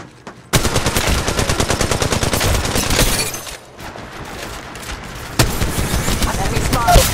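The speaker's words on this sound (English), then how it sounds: "They're shooting at me." Gunfire in the Apex Legends Mobile video game: loud, rapid automatic bursts rattle almost without pause, with a short lull and then more sustained shooting close by.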